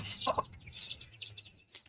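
Chickens give a few quick, soft clucks and chirps, fairly faint and close together in a short burst, with no talk.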